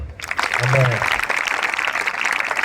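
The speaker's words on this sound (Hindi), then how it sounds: "ताली बजाओ।" Group applause at a church youth revival meeting in India, broad clapping running steadily through the clip right after a brief voice, fairly loud and close.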